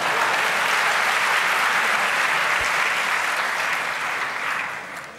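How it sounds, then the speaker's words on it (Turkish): An audience at a Turkish talent show applauds a young performer, a loud, dense, sustained wave of clapping that holds steady and then eases slightly near the end. "alkışlarla uğurluyoruz"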